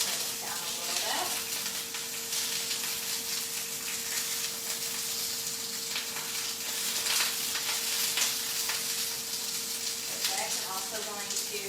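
Chopped asparagus sizzles in a hot skillet, a steady close frying hiss with faint stirring noises and a low hum underneath.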